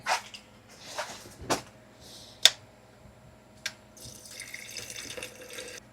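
Water running and splashing into an old plastic water bottle being filled to top up a 50-year-old Volvo 164E coolant system, with intermittent bursts and clunks over a steady low hum.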